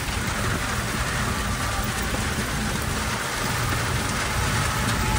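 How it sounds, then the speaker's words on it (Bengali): Heavy rain pours down steadily around a small electric rickshaw out on the road, a loud, unbroken wash of rainfall that continues without pause, with no talk. "প্রচুর পরিমাণে বৃষ্টি হচ্ছে"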